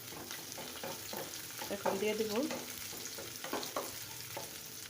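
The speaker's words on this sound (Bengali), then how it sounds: "একটা প্যানে দিয়ে দিচ্ছি তেল, দিয়ে দেবো পেঁয়াজ কুচি একটা, দিয়ে দেবো দুটো তেজপাতা, এলাচ 4-5টি।" Chopped onion, bay leaves and cardamom fry in hot oil in a pan for white pulao, a steady close sizzle with stirring scrapes and a brief spoken word.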